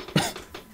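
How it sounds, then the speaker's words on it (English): One sharp, close cough bursts out and fades, with a fainter second huff just after, from a person playing a slot machine. "I gotta please stop coughing"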